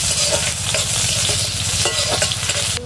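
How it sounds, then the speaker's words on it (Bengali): Onions fry in oil with dried red chilli and panch phoron for a dal, giving a loud, close, steady sizzle with repeated scraping strokes of the spoon across the pan. "ডাল, পেঁয়াজটা একটু লাল লাল করে ভেজে নেবো।"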